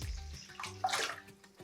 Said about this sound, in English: all we're gonna do is add in another quart of water